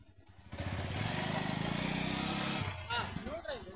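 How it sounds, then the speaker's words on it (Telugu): A motorcycle engine revs up to a sustained loud drone as the clutch is released, then drops away, with a voice talking over the end. "క్లచ్ వదిలేసి రేజ్ ఇవ్వాలి కానీ"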